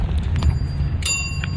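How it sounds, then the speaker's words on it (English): A penny-farthing bicycle bell rings in a few short, bright dings close by, over a steady low outdoor rumble. "Can I record the bell for Daddy?"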